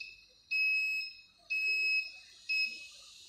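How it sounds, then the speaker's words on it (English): A differential pressure controller sounds its alarm at the set point, giving three loud, piercing electronic beeps spaced about a second apart, each held for half a second or more, close and with no voices. "the alarm is getting triggered on some set point and relay is getting activated"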